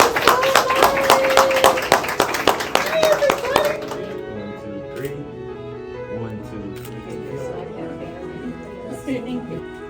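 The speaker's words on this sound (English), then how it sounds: "Can we give her a big round of applause?" A crowd at a school board business meeting bursts into loud, rapid applause for several seconds, then the clapping fades into a quieter room murmur with voices.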